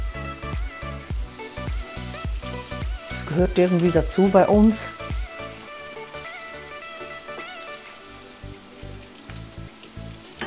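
Garlic cloves, chili and a bay leaf sautéing in a pan for a tomato sauce: a soft crackling sizzle runs beneath a person speaking German, with a brief louder burst partway through before it settles into a quieter steady hiss.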